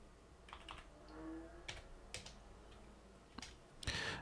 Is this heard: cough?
no